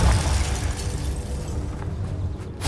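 Spell explosions from Bombarda and Confringo in Hogwarts Legacy: a dense, low, rumbling blast that fills the clip and slowly fades out.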